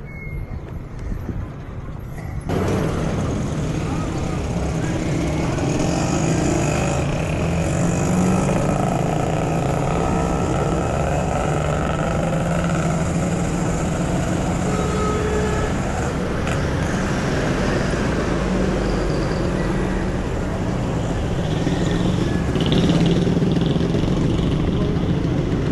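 Motorcycles ridden by kids pass on a street in the Dominican Republic, their steady engine drone continuous and fairly loud against busy traffic and hoof-like clatter, with people talking throughout.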